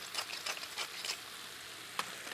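Lightly salted cod and soft broccoli stir-fried in a pan give a steady low sizzle, broken by several soft scraping stirs and a sharp clack near the end, with no talking.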